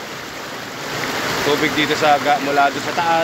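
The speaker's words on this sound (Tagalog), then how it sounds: "Naririnig mo yung hagusgos ng tubig" Water in a river at Infanta, Quezon rushes down from upstream, a steady rushing wash that builds louder, while someone talks over it.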